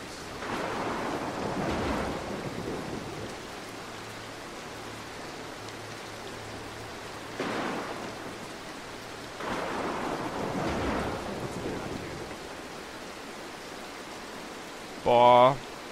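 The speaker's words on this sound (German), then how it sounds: "verkackte Gewitter, das ist unglaublich." Steady rain with rolling thunder swells from the Mark of the Ninja game, a few loud crashes over the constant wash, with a short burst of voice near the end.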